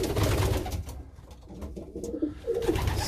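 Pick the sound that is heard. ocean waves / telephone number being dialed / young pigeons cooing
young pigeons cooing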